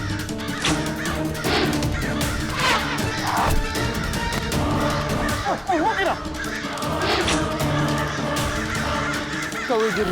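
Crows in an animated Tenali Rama cartoon caw repeatedly and loudly, harsh overlapping calls over a busy mix of crashes and thwacks, with occasional voices.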